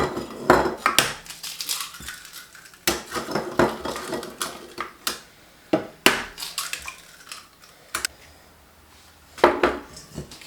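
Sharp clinks of eggs cracked one after another against a mixing bowl for a black forest drip cake, a series of close, crisp knocks with small clatters of shell and bowl between them.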